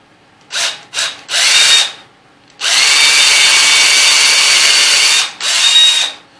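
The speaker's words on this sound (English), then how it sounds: "I'm going to take a drill bit, a drill" A power drill boring into a wooden Yule log whines in short bursts, then runs in one long sustained spin before a final burst, loud and close.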